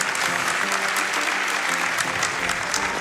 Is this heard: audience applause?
yes